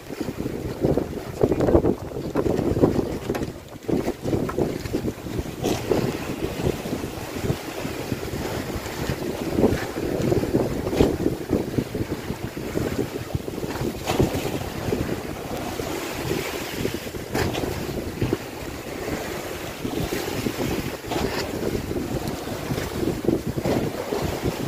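Wind buffeting a tuna fishing boat on the open Pacific at night, a loud continuous rush and rumble of gusts and sea mixed with waves slapping the hull, no voices.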